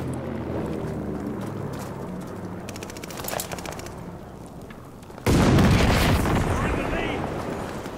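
Gunfire in a team deathmatch video game: scattered rapid bursts of shots crackle midway, then a sudden loud blast of heavy firing erupts and carries on, close and dense.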